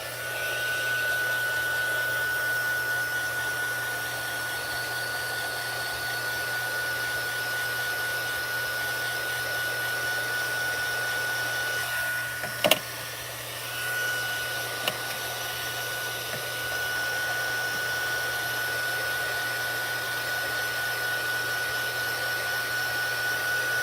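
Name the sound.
dryer blowing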